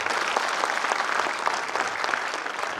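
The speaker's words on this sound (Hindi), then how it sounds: "आपसे निवेदन है कि सम्मान में ताली बजाएं।" An audience at a gathering on electro-homeopathy claps in honour of a guest, a dense, steady wash of applause with no pauses throughout.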